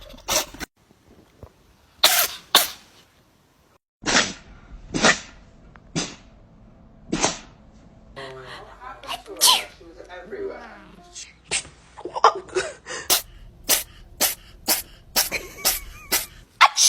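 A cat sneezes over and over, sharp explosive bursts up close, several spaced a second or two apart and then a quicker flurry, with a person's voice mixed in.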